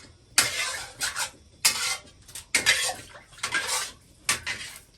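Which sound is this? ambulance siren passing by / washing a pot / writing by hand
washing a pot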